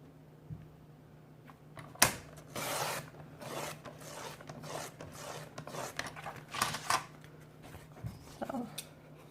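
Paper is cut for a handmade washi wallet, quiet close rasping strokes and scrapes in irregular bursts, with one sharp tap early on and pauses between cuts.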